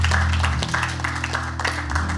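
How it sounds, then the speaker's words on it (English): A church congregation claps hands in praise, a rapid, dense patter of many hands that goes on without a break over a low, sustained organ or keyboard tone. "Give the Lord a hand clap of praise today."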